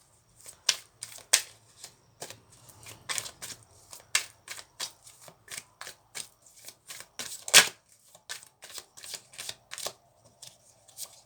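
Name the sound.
tarot cards being shuffled and dealt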